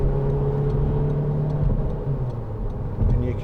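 A 2010 SEAT Leon 2.0 TD FR hatchback in third gear at about 40 mph joins a slip road, its diesel engine giving a steady, close cabin drone with a low hum and road noise throughout.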